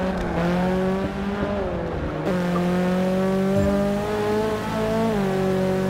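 Virtual WTCC touring race car in Forza Motorsport 6, its engine droning loud and steady with rising and falling pitch through gear changes, tire squeal mixed in throughout.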